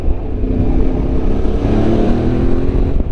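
A QJMotor SRT 600 Touring 2025 motorcycle engine drones steadily up close, loud and continuous with a rising tone, no voices present.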